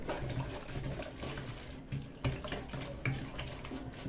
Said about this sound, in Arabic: نحط شويه ميه صغيرين